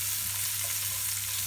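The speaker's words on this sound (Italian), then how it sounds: "Senti come sfrigola." Oil sizzles in a pan on the stove top, a close, continuous hissing crackle with no voices.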